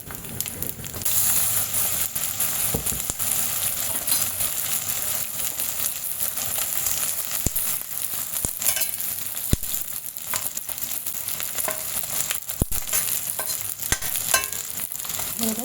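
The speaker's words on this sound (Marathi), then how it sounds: "आता मी बाकीचा पण सगळं तळून घेते" Edible gum (dink) frying in a pan of hot oil for gum laddoos, a steady close sizzle and crackle with occasional sharp pops and stirring scrapes, no talk.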